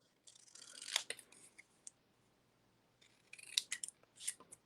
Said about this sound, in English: So I'm going to just snip these out.